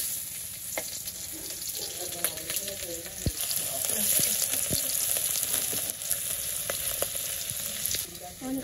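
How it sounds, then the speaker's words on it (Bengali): Onions and cumin seeds fry in oil in a wok with a loud, dense, continuous sizzle up close, punctuated by frequent sharp clicks and scrapes of stirring. "জিরা ফোড়ন দিয়ে দিছি, পেঁয়াজ দিয়ে দিই।"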